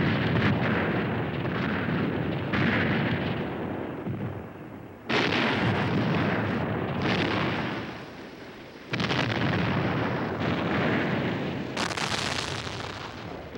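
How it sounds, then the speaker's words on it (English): Long-range artillery duel during the Vietnam War, with heavy guns firing in exchange; repeated loud, booming blasts roll into one another, each sudden onset followed by a long rumbling decay, dense and continuous throughout with no voices. "American gunners inside South Vietnam increase their fire. Communist artillery responds in a long-range duel."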